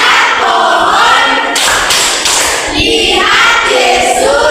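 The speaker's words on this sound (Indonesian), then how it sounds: "sedang pimpin kita lagu tepuk Sakeus" A group clapping along to the Tepuk Sakeus clapping song in a classroom, with loud, dense, continuous claps and thumps throughout.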